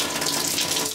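Hot water running from a shower with weak pressure, a steady hissing splash of flowing water, close and continuous for the whole second.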